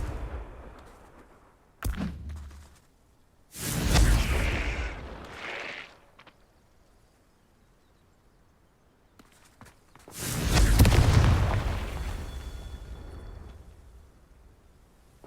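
Confringo blasting spell bursts in the Hogwarts Legacy game: two loud explosive booms several seconds apart, each with a rumbling low tail, separated by a short sharp crack and quiet stretches with faint footsteps.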